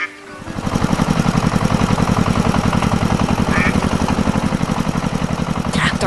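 A red tractor's engine runs steadily, close and loud, with a fast, even chugging pulse that holds unchanged for several seconds after a brief quieter start.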